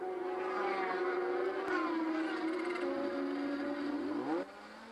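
A Yamaha R6 racing motorcycle runs hard on the Putnam Park road course during a 2002 endurance race, a sustained high engine whine that holds, then drops away with a falling pitch near the end.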